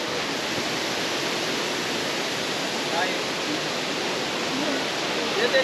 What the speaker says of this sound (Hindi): वाटरफॉल तो अपन ने देख लिया